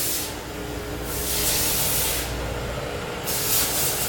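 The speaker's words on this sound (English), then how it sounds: "I don't know if you can see the steam, but there's a tremendous amount of steam right there." Steam hisses steadily from an industrial parts washer in a powder-coating plant, a loud continuous spray with surging bursts and a faint mechanical hum beneath, no talk.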